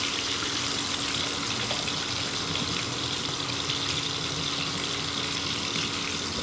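Cold tap water runs steadily into a pot of rice being rinsed in a home kitchen, a continuous broad hiss with a faint low hum beneath it and no voices.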